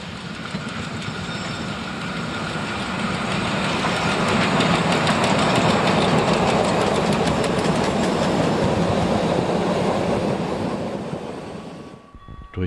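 A steam-hauled narrow-gauge freight train on the Zittau line rumbles past at close range near Bahnhof Berzdorf, steady clattering of wagons over the rails building to a loud, sustained roar before fading away.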